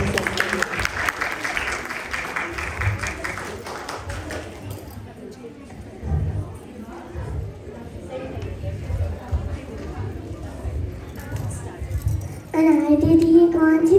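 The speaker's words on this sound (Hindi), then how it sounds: "ताली बजाकर उनका स्वागत कर सकते हैं।" An audience at a children's program applauds to welcome young performers to a skit. Clapping fills the opening seconds, then gives way to chatter and someone speaking.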